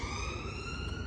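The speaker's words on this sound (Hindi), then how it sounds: "एम्बुलेंस आ गई थी।" Ambulance siren outside a building with a backyard, a loud steady wailing tone with strong harmonics holding throughout the short stretch, sounding fairly close.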